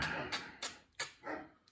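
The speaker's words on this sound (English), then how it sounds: "Her and the neighbor's dog aren't getting along," Dogs bark at each other, a neighbor's dog among them: four or five sharp, moderately close barks come in an uneven series, with a longer yelping bark near the end.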